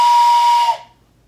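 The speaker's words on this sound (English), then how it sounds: "let's listen for the whistle as the train is coming" A steam train whistle blows one loud, sustained blast that fades out quickly into silence.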